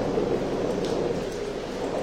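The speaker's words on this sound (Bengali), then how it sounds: "এরকম আরো একবার বাজ পড়ার সাথে সাথেই শুরু হলো মুষলধারে বৃষ্টি।" Heavy downpour used as a horror-story sound effect: a dense, steady wash of rain hiss, moderately loud and unbroken, with no voices.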